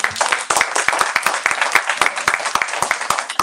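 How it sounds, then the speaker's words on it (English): A small gathering claps for an event organizer, close, distinct individual claps in an irregular patter with audible separate hands rather than a dense wash. "Can we give a round of applause to Amber for putting this event together?"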